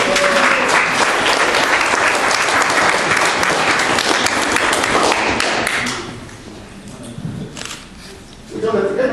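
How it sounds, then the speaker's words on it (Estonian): At the opening of a Tartu annual art exhibition, an indoor crowd applauds loudly and steadily for several seconds before the clapping stops abruptly, leaving quieter room noise and voices. "Aplaus!"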